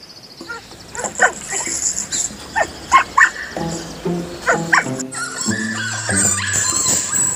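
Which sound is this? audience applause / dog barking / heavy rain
dog barking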